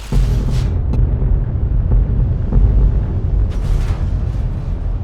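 A nuke detonating in Fallout: New Vegas Lonesome Road, a loud, sustained, deep rumbling roar that rolls on for several seconds with a few sharper crackles inside it.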